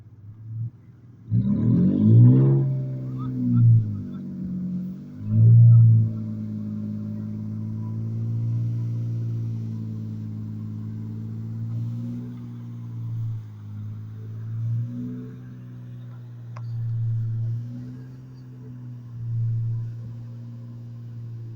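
A Ford Raptor in four-wheel drive strains off-road on rocks, its engine surging in loud revs before settling into a long labouring drone that rises and falls, heard at moderate distance.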